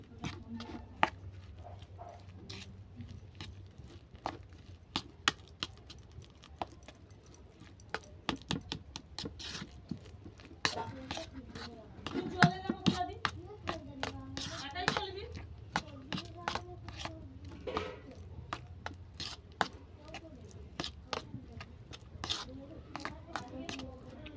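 Hands knead a sago motichur laddu mixture with powdered milk, making irregular soft clicks and sticky squelches in quick flurries while a voice talks over the work.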